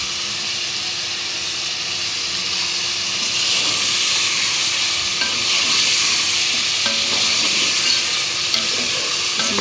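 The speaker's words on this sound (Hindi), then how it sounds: "मसाले भी अच्छी तरह फ्राई हो जाएंगे" Chicken pieces and spices frying for chicken nihari, a steady loud sizzle and hiss with occasional stirring scrapes, continuous and close with no talking.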